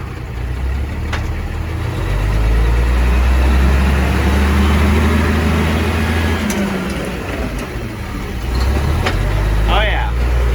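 A 1955 Oshkosh W712 6x6 truck engine rumbles loudly and low while shifting in reverse, its pitch rising and easing as the gear changes, and a voice speaks briefly near the end.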